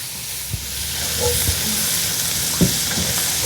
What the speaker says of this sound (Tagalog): Gisa-gisa lang natin para lumabas yung aroma ng bawang